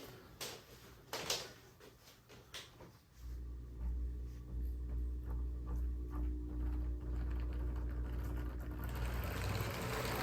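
An Athearn HO scale model locomotive starts off choppy with a few clicks, then settles into a steady, noisy mechanical whir and hum as it runs along the track, close up and without talk.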